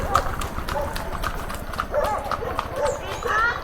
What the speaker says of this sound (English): Just a bunch of horses running down the middle of the street.